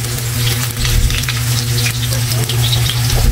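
Onions frying for chicken adobo, a loud, dense sizzle close up in the pan with steady stirring and scraping running throughout, no voices.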